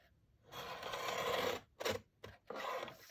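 Scissors cut through nylon mailer material in a few separate strokes, each a close, raspy scrape, with short pauses between cuts.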